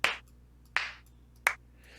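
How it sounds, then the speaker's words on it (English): Three sharp, crisp hand claps recorded in a room for use as a music sample, evenly spaced about three-quarters of a second apart, each with a short bright decay, close and isolated. "So these are all claps that I actually recorded when my one roommate moved out in my old place."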